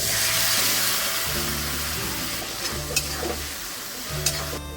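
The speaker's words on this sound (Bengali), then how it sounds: "সামান্য একটু জল দিয়ে মশলাটাকে আমি ভালো করে কষিয়ে নেব" Spice paste with turmeric, salt and red chili cooks down with a splash of water in a pan, a steady close hiss and sizzle with a couple of sharp spatters, a low hum beneath.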